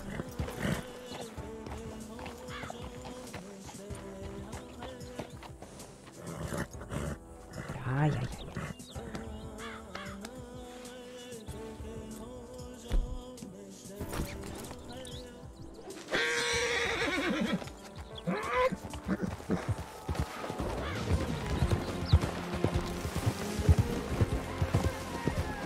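Horse neighing and galloping in Red Dead Redemption 2, with whinnies and hoof clatter mixed into a busy game soundtrack of music and effects, and a voice talking over it.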